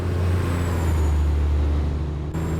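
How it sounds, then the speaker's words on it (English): A Caterpillar 3406 truck engine in American Truck Simulator drones steadily and loudly at a low, even pitch throughout, with a slight shift near the end and no voices. "that 3406 sounds good"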